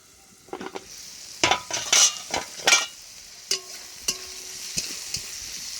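A spinach dish frying in a covered pan with light salt, heard as a low sizzle under several loud clattering stirs and metal utensil knocks against the pan, near and bursty, without speech.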